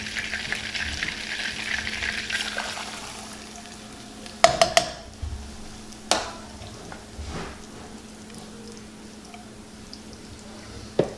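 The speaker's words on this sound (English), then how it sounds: "now that our butter is melted, we're going to add a little over 1 cup of heavy whipping cream." Heavy whipping cream poured into melted butter in a pan for an alfredo sauce, a soft sizzle and bubbling simmer broken by a few sharp clinks and stirring knocks.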